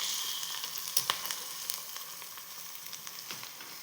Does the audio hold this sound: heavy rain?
no